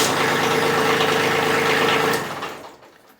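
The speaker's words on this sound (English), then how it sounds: "so let's just crank it and see if it works without hitting the boost button" An engine started with a GOOLOO jump starter runs loudly and steadily close by, then its sound fades and drops away near the end.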